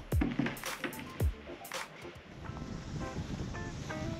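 Wind rushing over an open outdoor space with a steady blustery roar during a drone flight, and a few bumps and knocks close by early on.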